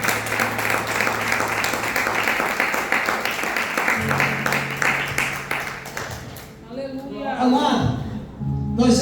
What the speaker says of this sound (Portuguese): Você pode aplaudir Jesus nesta noite?